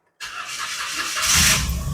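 Perodua Axia second-generation car engine cranking and catching, a steady broadband roar from a close source that swells louder near the end, with no talking.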